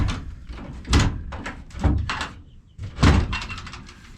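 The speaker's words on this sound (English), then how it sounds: "I'm gonna shut this door." A coop door being shut, giving a few solid thunks and knocks of wood and latch at close range, with no talk over them.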